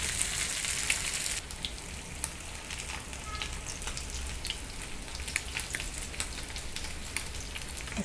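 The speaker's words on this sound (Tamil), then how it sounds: "இது வந்து டீப் ஃப்ரை மாதிரி பண்ணாமல் நம்ம லைட்டாக தவாலேயே வந்து அப்படியே திருப்பி போட்டுக்கலாம்." Bat fish (pomfret) shallow frying in oil on a tawa over low flame, a soft continuous crackling sizzle with scattered pops, fairly faint and steady, no talking.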